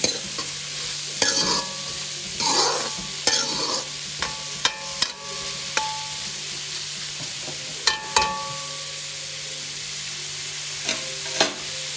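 Green chillies fry in a pan for street-style chicken kothu parotta, with steady sizzling under sharp spoon scrapes and clacks that come in irregular bursts, close and without speech.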